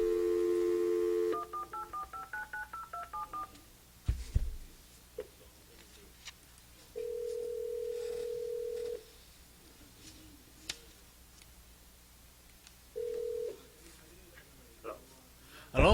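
Telephone keypad tones beep through a quick dialing sequence, then two long ringback tones sound with a pause between them over a quiet line with faint clicks, ending in a sudden burst.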